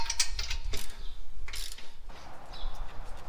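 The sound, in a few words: ratchet tightening FJ40 Land Cruiser intake bolts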